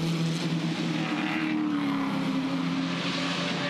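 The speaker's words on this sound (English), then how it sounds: "engine sounds. Plenty of V8s here at the back working their way through." V8 race car engines at the Clipsal 500 in an Improved Production race: a loud, continuous engine roar with a rising and falling drone as cars pass, several engines blending together.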